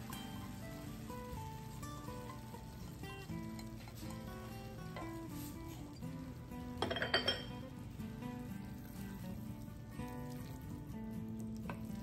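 Red quinoa being stirred with tuna and vegetables in a pan, soft scraping and light clinks of a utensil against the pan over a faint sizzle, with one brief louder clatter partway through.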